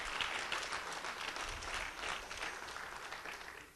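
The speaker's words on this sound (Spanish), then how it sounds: "Dar un aplauso al Señor, vamos a dárselo para su gloria." Steady applause from a church congregation, a dense continuous wash of many hands clapping at moderate distance, with no voice rising above it.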